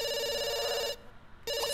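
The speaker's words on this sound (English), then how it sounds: "that phone's not gonna stop ringing, and it's gonna bother me" A telephone rings inside The Sims 2 game: a steady electronic ring that cuts off briefly, then starts again, continuous and fairly prominent with no talking.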